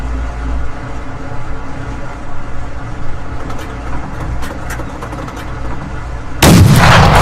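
Gunfire in the game Fallout Frontier: a low rumbling battle ambience with scattered distant cracks, then a loud, broadband gunshot blast erupts near the end.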